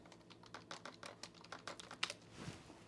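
Fingers type on a poorly made computer keyboard, producing quick, irregular clicks and taps that are close but fairly soft, with no talking.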